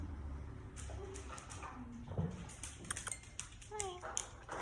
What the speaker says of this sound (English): My dog is here.